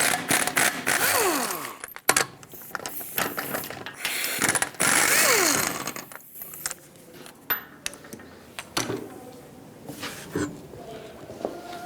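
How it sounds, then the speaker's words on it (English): Ratchet with a 21mm socket loosening the lug nuts on the rear wheel of a 1997-2001 Lexus ES300, giving bursts of rapid clicking and metallic clatter up close, with pauses and handling noises between. "I want to start by removing the wheel, 21mm socket, take all 5 of your lug nuts off"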